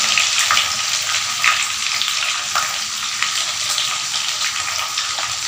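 Anchovies fry in hot oil in a pan for a fried tempeh dish, giving a loud, continuous sizzle with crackling bursts and occasional stirring, close by and alone.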